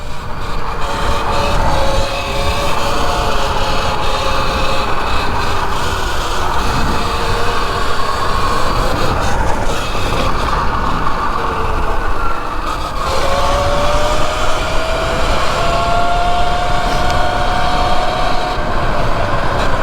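A 72-volt Sur Ron electric supermoto bike is ridden fast, with loud rushing wind and road roar under a whining motor tone that climbs in pitch as it speeds up.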